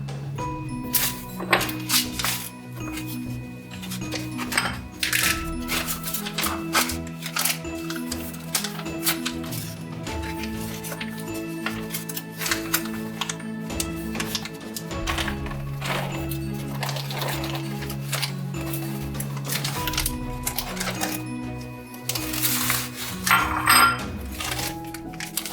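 Dry beans are poured into a vacuum sealer bag, a dense rattling patter of hard little grains against plastic that runs on at a moderate level, with crinkling of the bag throughout.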